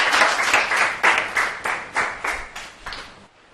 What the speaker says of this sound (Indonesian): Beri tepuk tangan untuk teman-temannya ya.